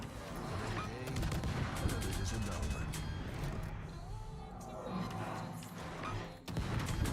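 Warship guns firing armor-piercing shells in World of Warships, rumbling naval gunfire with heavy booms and crashing impacts under ongoing battle noise, with a voice talking over it.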